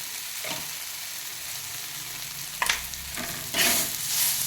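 Peanut chutney being mixed into brinjal bharit frying in a pan, a steady sizzle broken by several scraping stirs that grow louder toward the end, close and without talk.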